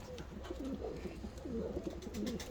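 A pair of Ottoman Hünkari pigeons, a male and a female, coo nearby in repeated low rolling phrases over a quiet background.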